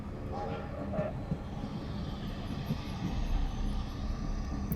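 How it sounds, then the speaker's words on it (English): In the video game The Lion's Song, a train slowing down gives a continuous low mechanical rumble with faint rail clatter and a high whine, running evenly throughout. "Train is slowing."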